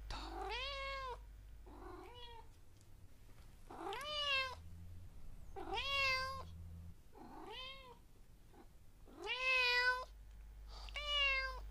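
A cat meows repeatedly, about eight distinct drawn-out meows at uneven intervals, fairly close and clear over a low steady hum, with no talking.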